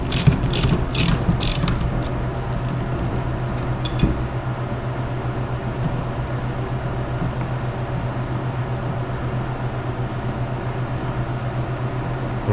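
A ratchet clicks in fast bursts as it loosens a motorcycle fork bolt, held steady by an extension through the axle hole, then the pawl ticking thins out into a steady mechanical drone, close and loud.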